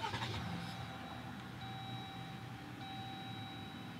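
A 2020 Jeep Gladiator Rubicon started by push button, with steady chime tones from the dashboard over a low, even engine hum throughout, fairly quiet and close.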